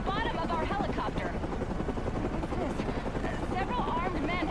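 Helicopter in the video game Batman: Arkham Origins, a steady loud rotor and engine drone running throughout, mixed with other game noise and a voice speaking over it.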